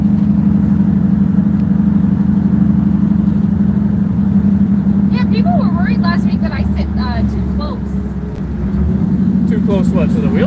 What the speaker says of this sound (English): She's driving her 57 Chevy.